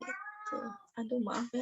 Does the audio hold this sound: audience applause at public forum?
no